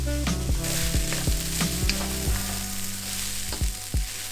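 Cabbage stir-fried in a pan for veggie fried rice: a steady loud sizzle with a spatula scraping through it in regular strokes, roughly two per second, and no voices.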